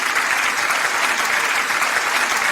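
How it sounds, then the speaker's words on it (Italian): Audience applause at an Italian radio show's live evening event, steady dense clapping throughout with no voices over it. "facciamo un applauso"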